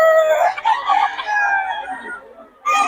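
A rooster crows loudly and close by, one long drawn-out call, followed by the start of another crow.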